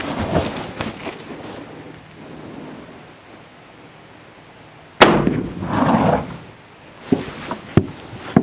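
A black powder .44-40 rifle fires one sharp, loud shot midway, with a booming tail that rolls on for about a second, amid quieter outdoor rustling and clicks.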